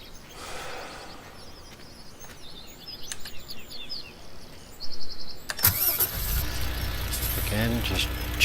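A truck engine cranks and catches in Farming Simulator 17, a loud rising roar settling into a steady idle after faint bird chirps and a voice.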